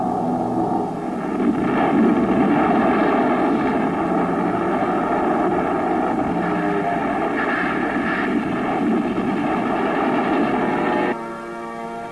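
Allied military aircraft of an RAAF squadron flying out on a strike mission, a steady loud engine drone that holds for about eleven seconds before dropping away abruptly.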